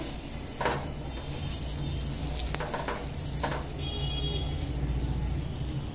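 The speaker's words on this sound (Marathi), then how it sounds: "गॅसवरती एक आपलं भिडं तापत ठेवलं होतं। भिडं चांगलं तापलेलं आहे। तर आपण असं आहे कांद्याने त्याला असं व्यवस्थित तेल लावून घ्यायचं आहे।" Oil sizzles steadily on a hot griddle as it is rubbed on with a cut onion before Malvani amboli batter goes on, a close continuous crackling hiss with a few soft scraping clicks and no talking.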